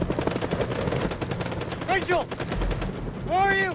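Sustained rapid gunfire in the video game House of Ashes, a dense close rattle of automatic shots running throughout, with a shouting voice rising over it twice.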